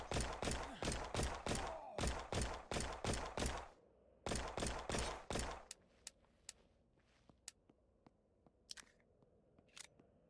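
Gunfire from the J.A.W.S PC game: rapid bursts of sharp, evenly spaced shots in two loud runs, followed by sparser single reports and clicks as the shooting thins out.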